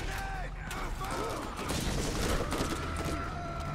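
Chaotic Borderlands video game combat with a grenade blast and bursts of gunfire, a dense, continuous barrage of shots and impacts at moderate loudness.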